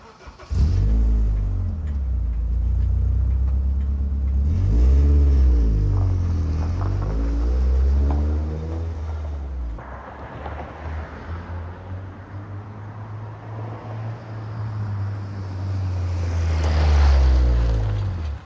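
A car with no power steering pulls out onto the road, its engine revving up and easing off through several gear changes, loud and close from inside the cabin.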